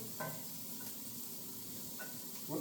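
Vegetables sauté in olive oil in a pan, giving a steady, moderate sizzle and hiss with a few brief stirring scrapes.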